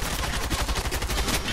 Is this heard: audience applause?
no